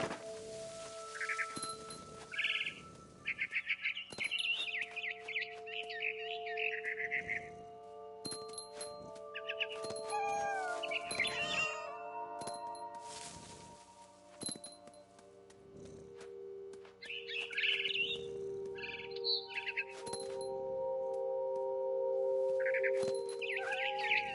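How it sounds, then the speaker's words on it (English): Short bursts of electronic-sounding barn swallow chirps in the video game What Remains of Edith Finch come and go over sustained synthetic tones and occasional chimes. "I heard chirping outside my window. It was a barn swallow going back to her nest."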